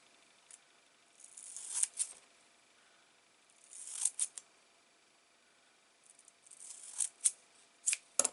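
Several quick snipping bursts of herb scissors cutting through fabric, coming in clusters with quiet pauses between, close and crisp.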